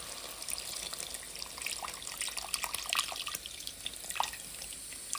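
Tamarind juice is poured into a pan of vegetables already cooked in oil for sambar, giving a faint, continuous liquid trickle with scattered drips. No voices are heard.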